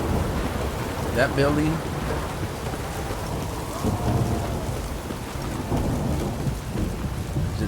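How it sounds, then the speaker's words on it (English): Steady rain with rolling thunder in The Witcher 3, a dense wash of downpour that swells with low rumbles throughout, while someone talks briefly over the storm. "And it's raining again."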